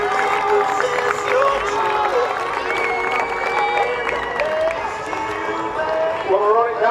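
A rodeo crowd at a barrel racing event in Valemount, British Columbia cheers, claps and shouts steadily in a broad wash of noise, with an announcer talking over it.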